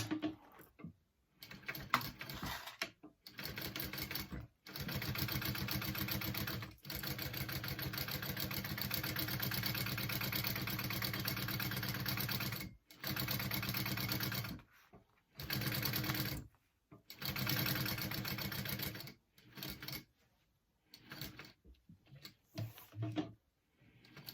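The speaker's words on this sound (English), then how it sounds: "I'm gonna top stitch this all closed" A sewing machine top stitching a fabric pouch closed, running in fast steady bursts of varying length separated by short pauses, close and fairly loud with no talk over it.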